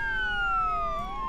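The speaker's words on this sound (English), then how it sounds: "How do we turn off the sirens?" Police car siren in the Roblox Jailbreak video game, a loud wailing tone sweeping steadily down in pitch and then rising again, sustained throughout with no voices over it.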